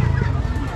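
Chickens cluck close by at a market, a short burst of low, rough calls overlapping with people talking nearby.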